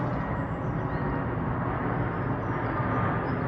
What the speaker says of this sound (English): apologise for the plane noises, we're on the flight path for Manchester Airport.